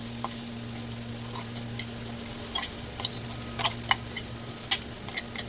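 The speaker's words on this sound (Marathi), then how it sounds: "पॅन थोडा गरम झाला की त्यातच आपल्याला हे मिश्रण सोडायचं आहे आणि छानपैकी असं फ्राय करून घ्यायचं, परतून घ्यायचं आहे" Chili thecha paste (green chilies, garlic) frying in hot oil in a pan while being stirred, with a steady low sizzle and scattered sharp scrapes and ticks of the spoon against the pan, close and moderately quiet, no voices.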